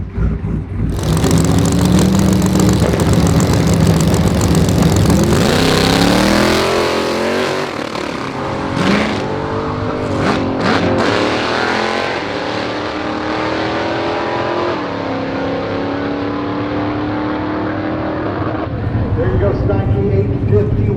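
A 3000HP drag race car runs down the track at part throttle during Drag Week, its engine droning loudly and shifting pitch as it moves and fades, with bursts of sharper noise partway through.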